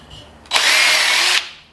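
A power drill fitted with a 1/8 inch bit whirs in one short, loud, close burst of about a second, alone and without talking.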